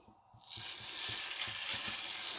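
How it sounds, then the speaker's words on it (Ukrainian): A meat roll hits a hot frying pan and a loud, steady sizzle builds within a second, crackling continuously and close up. "Отак берете і кладемо цим краєм на сковорідку"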